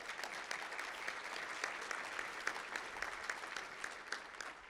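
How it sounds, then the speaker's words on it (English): An audience at a charity breakfast gives sustained applause, a dense and fairly quiet wash of many hands clapping at an even level with no voices heard. "Round of applause."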